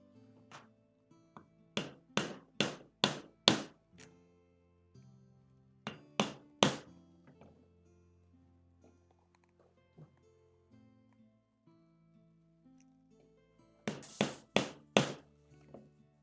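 Rivets on leather being set with a hammer, in several quick bursts of sharp, close strikes, with quieter pauses between the groups.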